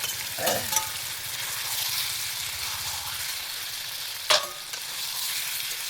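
Potatoes sizzle and fry in a pan over a wood-fired village clay stove on a riverbank, a steady close hiss with occasional stirring scrapes and clatters.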